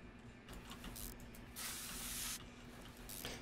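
Hissing spray of DW04 lubricant from an aerosol can in Car Mechanic Simulator 2021, while working on a rusted-out Nissan Skyline; soft hiss with a louder sustained burst in the middle.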